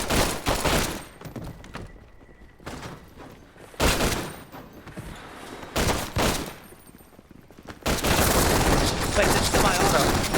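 AK rifle gunfire in Hotline Miami, with loud close shots in short bursts and single semi-automatic cracks broken by brief gaps, ending in a sustained dense volley.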